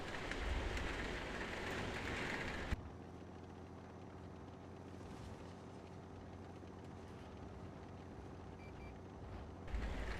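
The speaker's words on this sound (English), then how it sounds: "I like how you can hear the rain." Rain falling in a video game, a broad hissing downpour loud at first, then cut back to a quieter steady patter under a faint low hum before swelling again at the very end; no talking.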